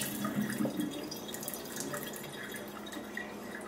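Rinse water from washing rice splashing and draining, a soft continuous trickle with faint drips, fairly close and steady throughout.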